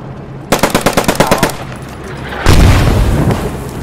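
Burst of automatic gunfire in the Post Scriptum battle game, about a dozen sharp rapid shots in quick rhythm, followed by a louder sustained roar of blasts and rumbling fire.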